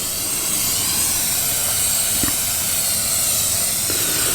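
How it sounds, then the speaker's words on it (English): A cooking oil spray can hisses continuously and loudly onto the inside of a metal drum smoker lid, steady and close, with a faint clunk partway through. "Now I'm just gonna spray the inside of the lid."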